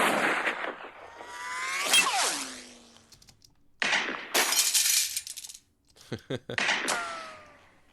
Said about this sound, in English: I grabbed a clip of all these different like cartoon sounding gunshots